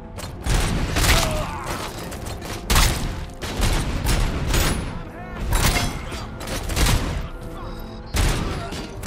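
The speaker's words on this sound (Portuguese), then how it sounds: "Cara tacando granada" Grenade explosions and gunfire in the video game RoboCop: Rogue City: loud booms and bursts of shots come in waves, with mechanical clanks between them and a person talking over parts of it.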